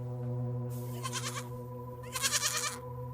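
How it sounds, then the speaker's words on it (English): Goats bleat twice in a row, two wavering, nasal calls separated by a short pause, heard over a steady low mechanical hum. "I need the sounds of goats making that, that goat sound."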